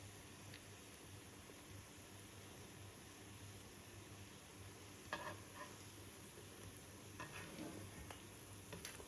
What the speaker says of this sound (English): I can't really store them, so I'll just fry them off too.